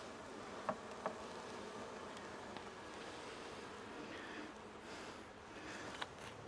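Honeybees buzzing around hive frames as they are handled during a queen problem, a steady dense drone with a few soft clicks and knocks of frames near the start and end.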